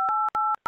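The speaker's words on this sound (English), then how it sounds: "we dial the star 72 plus the number and then click call" Touch-tone telephone dialing for a star 72 call-forwarding code: three crisp dual-tone beeps in quick succession, evenly spaced with short silent gaps, clean and alone.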